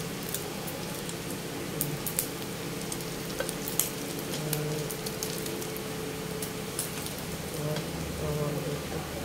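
Bread stuffed with a hotdog frying in a pan, giving a steady close sizzle and crackle of hot oil with small pops throughout.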